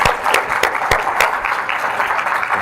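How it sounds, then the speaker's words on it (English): Audience applause at a company event, a dense, loud and steady clapping from a crowd that holds for a few seconds without speech. "Round of applause for Mr. Rod Furtado."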